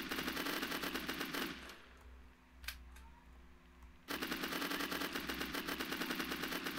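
Rapid 9mm gunfire from the Last Stand: Union City video game, fired in two sustained bursts with a short quiet gap between them, loud and close.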